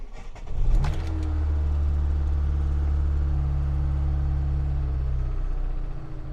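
A Tavria car engine cranks with a brief burst, then catches and settles into a steady, loud, low idle that runs on and eases slightly near the end.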